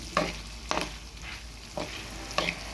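Bitter gourd shallow-fried in a pan, not deep-fried, giving a soft continuous sizzle with four distinct scraping stirs spaced across the stretch, heard up close with no talking.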